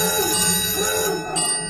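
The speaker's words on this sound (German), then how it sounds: "Oh, das Telefon klingelt und das gerade jetzt, wo ich so gut gespielt habe." A telephone rings in a cartoon game, giving a bright, continuous bell-like trill that is loud and close, with no voices over it.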